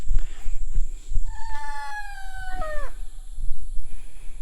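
Chickens at a backyard chicken house give a clear drawn-out crowing call in the middle, close and loud, surrounded by rustling and thumping handling noise, with no talking.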